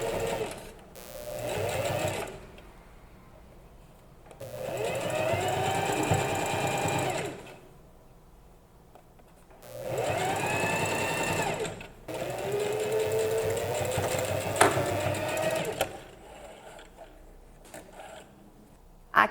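Sewing machine stitching a ruffle onto a dish towel, running in several steady whirring bursts of a few seconds each, separated by short quiet pauses, close and clear.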